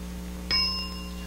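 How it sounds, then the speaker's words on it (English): A game show bell gives a single bright ding that rings out and slowly decays over a low steady studio hum. "and you'll hear the bell."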